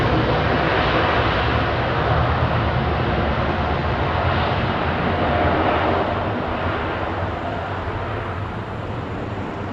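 Jet airliner engines at Heathrow Airport at night as an aircraft taxis out, a loud, steady, broadband roar that holds for the whole stretch and eases slightly toward the end, with no voices.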